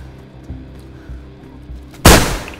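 Gunfire in the survival video game DayZ: a few faint distant shots pop at intervals, then one loud sharp close blast near the end.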